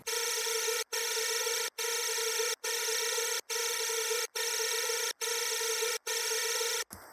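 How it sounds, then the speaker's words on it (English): A bright sustained synth chord pumping rhythmically, ducking to near silence at regular intervals about eight times, a steady sidechained pulse with no drums audible. "All of these go through the sidechain, so if I put the sidechain on, you'll hear it."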